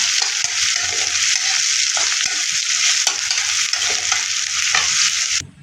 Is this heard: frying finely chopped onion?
yes